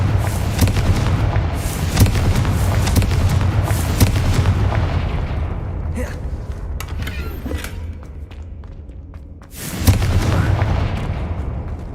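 A Confringo blasting spell going off in the Hogwarts Legacy video game, loud booming blasts with a rumbling roar that fades, then a second sharp burst near the end.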